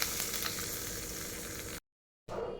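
Garlic, mustard seeds and chili tempering in hot coconut oil make a loud, continuous sizzle that suddenly cuts to silence, then the crackling sizzle resumes briefly.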